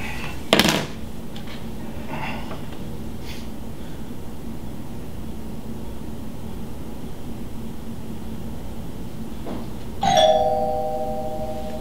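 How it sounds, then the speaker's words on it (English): A doorbell chimes twice, once near the start and again about ten seconds later, with a steady hiss of room noise in between. "I know we had a doorbell."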